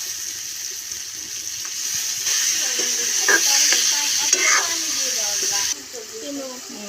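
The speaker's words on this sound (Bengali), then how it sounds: "বেলা রাখা পাঁচফোড়ন ভাজা হয়ে গেছে, এখানে আমি মাংসটা দিয়ে দেব।" Chicken frying with panch phoron spices, a bright steady sizzle that swells as the meat is stirred with a few scraping clinks, then drops back near the end; a voice speaks briefly over it.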